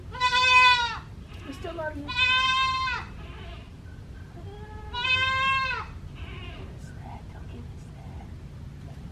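A goat held still for a blood draw for CAE testing gives three loud, close, wavering bleats a second or two apart, with quiet murmured speech from the people holding it in between.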